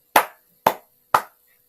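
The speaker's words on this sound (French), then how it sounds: "elles applaudissent" Three sharp hand claps, a right hand striking a left hand, evenly spaced about half a second apart, close and crisp in a quiet room.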